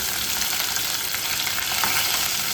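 Curry leaves, small shallots and a green chilli fry in hot oil, giving a dense, even, loud sizzle that holds steady throughout with no talking.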